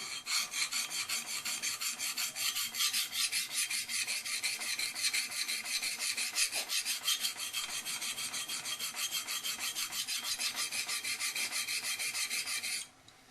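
A hand file rasps along a knife's edge to even out a lopsided bevel, steady back-and-forth strokes forming a continuous, close, bright scraping for about thirteen seconds before stopping abruptly.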